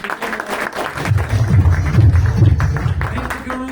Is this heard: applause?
yes